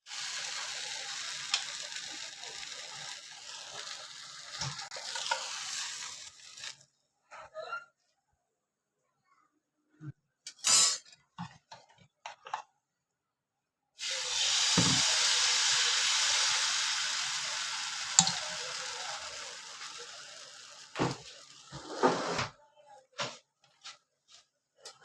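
Malpua batter frying in oil in a kadhai, a steady broadband sizzle that runs in long stretches, breaks off into near silence with scattered clicks and stirring knocks, then resumes loudly.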